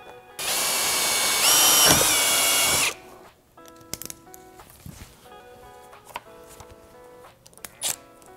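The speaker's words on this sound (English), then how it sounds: "I'm gonna create some holes first with my drill to make my tapping easier" A power drill bores pilot holes for self-tapping screws while fitting an air suspension kit on a Dodge Challenger, a loud, steady whine of about two and a half seconds, followed by quieter clicks and handling noises.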